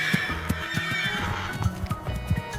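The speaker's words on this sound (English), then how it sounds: "Horse." A horse whinnies while its hooves clip-clop in a steady, uneven rhythm close by, the neighing rising over the repeated hoof knocks.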